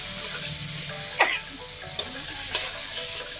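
Hot oil sizzling as spice tempering hits the pan while cooking a pumpkin and hog plum sour dish, a steady frying hiss with a few sharp crackles and stirring clinks, no talking.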